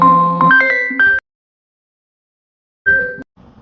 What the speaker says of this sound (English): My phone keeps buzzing.